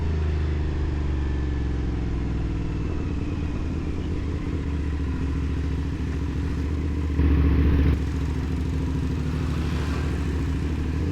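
A CFMOTO 450 SR sport motorcycle on Battlax S22 tires being ridden, its engine droning loud and steady over constant road and wind rush, with no voices.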